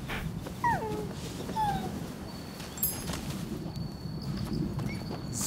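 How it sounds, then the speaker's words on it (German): Dog barking and whimpering in the video game Rise of the Ronin, a few short yelps and whines heard at a distance over a low outdoor ambient rumble. "Oh, noch ein Hund."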